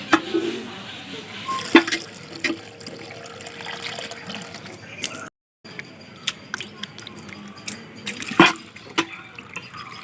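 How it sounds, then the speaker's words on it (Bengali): Kuche fish (eel) is washed in water for a village-style curry, with close splashing, dripping and wet squishing that come in uneven bursts, broken by a brief gap of silence. "তো এবার কুচে মাছটাকে ধুয়ে নেব।"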